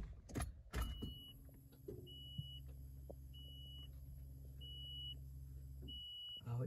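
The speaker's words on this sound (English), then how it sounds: "when I turn the key on" A key turns in a Nissan pickup's ignition and it comes on, with a faint hum and a string of evenly spaced chime beeps.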